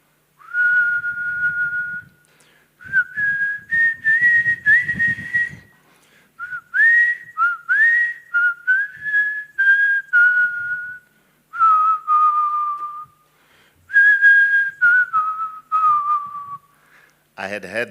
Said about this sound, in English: I had heard that whistle for so long, but never knew the song and the artist.